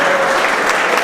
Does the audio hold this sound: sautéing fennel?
no